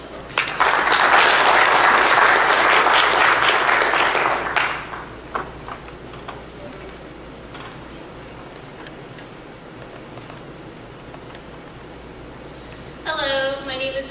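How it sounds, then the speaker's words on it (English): An audience at a school talk claps loudly for two high school students for about five seconds, then the clapping dies away into a quiet room with scattered faint claps and a brief burst of voice near the end. "big round of applause"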